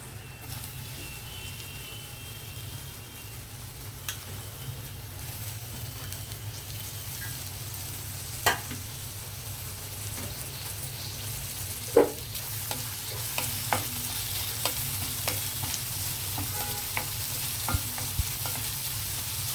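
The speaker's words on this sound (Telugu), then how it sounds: "ఆయిల్ హీట్ అయ్యాక మనం ముందుగా ఉల్లిపాయలు వేసేద్దాం" Onions fry in hot oil for a mushroom curry, a steady sizzle broken by occasional sharp clacks of a spoon stirring against the pan, growing somewhat busier and brighter toward the end.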